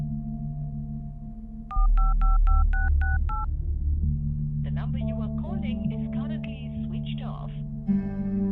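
A number is dialed on a phone to place a call, a quick run of seven or so touch-tone beeps, then a muffled phone-line message and voices, ending in repeated short electronic tones.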